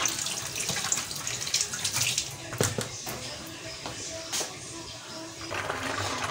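Tap water pouring steadily into a red bowl in a home kitchen while cooking Eid couscous, a continuous splashing stream, fairly quiet, with faint clatter and no clear talk.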